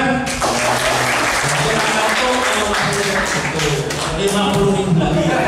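Sustained applause from a crowd at a scouting jamboree national-awareness event, dense and loud throughout, rewarding a student for a correct answer, with voices mixed into the clapping.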